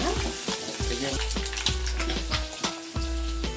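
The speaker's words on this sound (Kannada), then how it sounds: "ಥರ ಚೆನ್ನಾಗಿ ಫ್ರೈ ಮಾಡಿ, ಸ್ವಲ್ಪ ಚೆನ್ನಾಗಿ ಫ್ರೈ ಆಗ್ಬೋದು." Turmeric and spices frying in a little oil for egg biryani cooked in a pressure cooker, a steady close sizzle broken by repeated scraping stirs of a spoon, with no talking.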